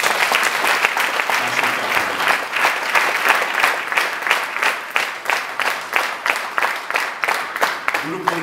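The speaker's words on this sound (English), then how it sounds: "So big round of applause for this team" A crowd applauding steadily, many hands clapping in a dense wash that grows into clearer rhythmic claps toward the end.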